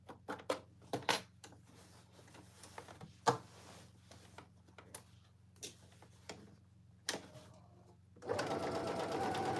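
A sewing machine stitches down the folded edge of a cargo pants gusset, running in short close bursts with clicks between them, then breaking into a loud, steady run at the end.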